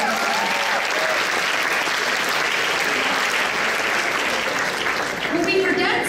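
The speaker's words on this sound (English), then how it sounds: "So give them a round of applause." Audience at a youth convention keynote applauding steadily, a dense, loud wash of clapping that holds evenly throughout, with faint voices mixed in.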